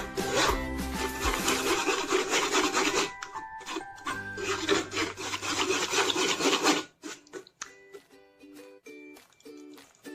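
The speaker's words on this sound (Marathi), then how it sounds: "पळीनं उलटण्याने किंवा असं वाटीने जरी असं घसटलं ना तर पूर्ण अर्क असा हा निघून येतो." A ladle presses homemade pani puri mixture through a sieve, giving loud, close scraping and rubbing strokes. A faint tonal background runs underneath, and the scraping thins out near the end.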